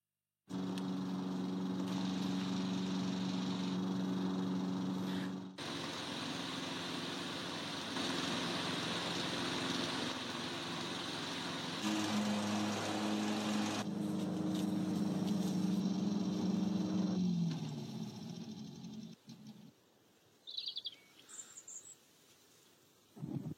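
A Viking lawn mower engine drones steadily at close range, cutting out briefly partway through before dropping away near the end.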